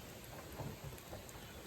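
Rain pours outside on a wet day at a goat farm, heard from indoors as an even, low hiss with a distant rumble beneath it.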